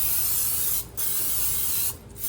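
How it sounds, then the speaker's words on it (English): Cooking spray hisses from an aerosol can onto the edges of a cake pan in two close, steady bursts, each broken off by a brief pause. "we're just gonna spray the edges"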